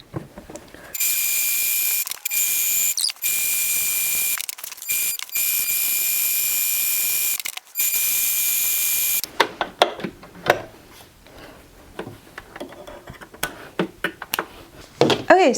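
A sewing machine runs in steady bursts while stitching the outer seam of a fabric ring light diffuser, with short pauses between runs, followed by fabric rustling and handling noises.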